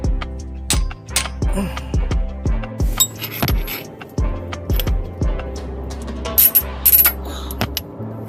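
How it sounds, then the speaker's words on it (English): An idler pulley being bolted back in on a Toyota 4.0L engine, close ratchet clicks in quick runs with metallic clinks and taps of tools and parts between them. "And we're going to go ahead and bolt it back in."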